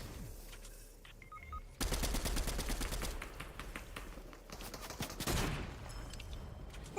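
Rapid automatic gunfire in a video game, a dense fast burst of shots starting abruptly after a quiet moment and continuing loud and steady to the end.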